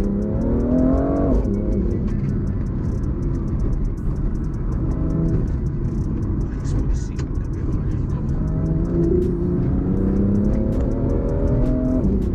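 A BMW M2 engine revs loudly and close by in a continuous throaty drone. The pitch climbs in surges near the start and again toward the end, and a voice speaks over it.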